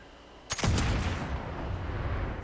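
A single heavy, explosive black powder rifle shot in Fallout 76 booms out close and loud, followed by a long rumbling decay that fills the rest of the moment.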